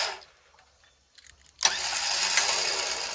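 An electric winch motor on a Jeep, switched on by a homemade wireless remote, starts abruptly after a few faint clicks and then runs with a steady, loud whirring hum close by.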